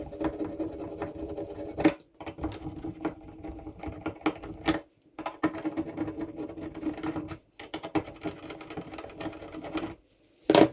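A screwdriver backs out the screws on a light switch, producing a steady mechanical whirring that runs in long bursts broken by short pauses. It sounds close and fairly loud, with no talking.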